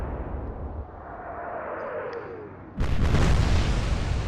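Naval guns open fire in Atlantic Fleet: after a low rumble with a faint descending whistle, a sudden loud broadband blast hits and roars on with heavy low-end rumble.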